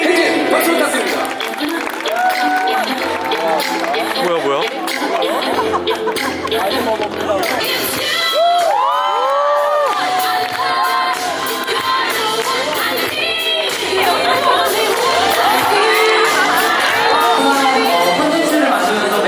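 Wedding guests applaud and cheer in a busy hall, dense clapping mixed with shouts and excited voices throughout, fairly loud and continuous.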